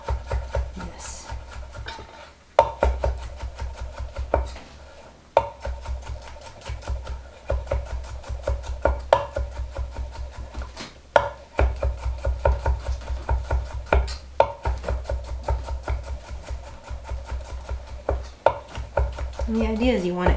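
Rapid knife chopping as a broccoli stem is finely minced on a cutting board, a fast steady run of close, crisp taps broken by brief pauses, continuing throughout.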